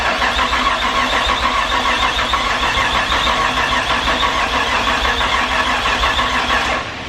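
A Nissan Skyline R33 with an RB25DET engine that had not run in years, cranking or running as a loud, steady mechanical drone close by, holding constant for several seconds before easing off at the end.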